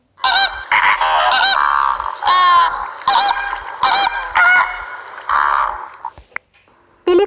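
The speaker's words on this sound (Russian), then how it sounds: "Фламинго." Flamingos calling in a loud series of honking, goose-like cries, several bursts in close succession with brief gaps, near and clear with no other sound.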